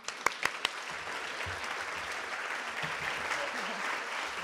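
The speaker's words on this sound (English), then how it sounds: "join me in a huge round of applause for our inaugural leadership speaker" A crowd at a law school women's leadership summit keynote gives sustained applause with a steady, dense wash of clapping, opened by a few sharp individual claps, fairly quiet and continuous for the whole stretch.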